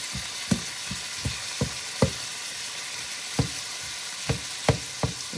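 Meat fries steadily in a hot pan, a dense close sizzle broken by repeated knocks and scrapes of a utensil cutting and stirring the meat in an uneven rhythm, with no talking.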